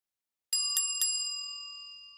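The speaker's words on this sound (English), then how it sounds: "you get the ringing bell." A bright bell-like ding effect in the OOTP 25 Baseball game sounds three quick clear strikes, each ringing out and fading slowly into silence.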